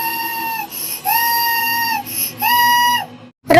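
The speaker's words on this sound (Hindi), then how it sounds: "जोर जोर से रोने की आवाज आने लगती है" A little girl's cry rings out at a train station in a Hindi cartoon, loud and sustained in three drawn-out wailing bursts with short breaks between, alone with no talk.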